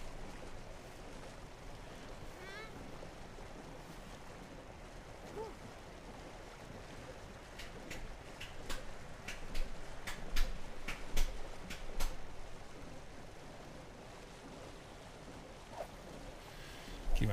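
Boat moving across open water, a steady wash of waves and wind rumble with a few sharp knocks and splashes midway, fairly loud and continuous without talk.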